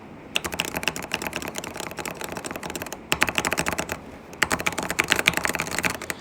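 A 15-key mechanical keyboard fidget clicker with quiet switches is pressed in rapid, irregular bursts of close, crisp clicks and clacks, with a brief pause midway.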